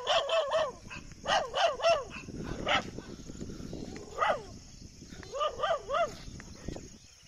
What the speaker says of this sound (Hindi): बस भाई रहने दो, अब कितना भौंकोगे।